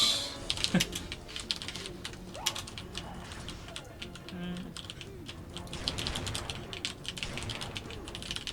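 Rapid clattering of a computer keyboard being typed on during split-screen gaming, close and fairly quiet, with a bird cooing in the background.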